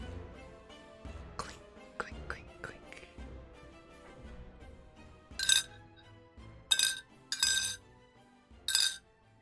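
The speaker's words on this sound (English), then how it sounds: "a wind, and then a clinking noise." Chains clinking in a dungeon: several bright metallic clinks ring out in a loose sequence after a quieter stretch where a voice speaks.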